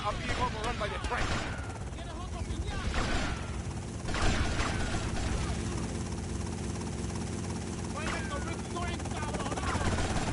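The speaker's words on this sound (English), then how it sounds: "Tommy, take that chopper out!" A helicopter in Grand Theft Auto Vice City thumps and whirs steadily under constant gunfire and crackling game effects, dense and loud throughout with no pauses.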